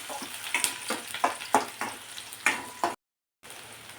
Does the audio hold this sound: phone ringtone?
no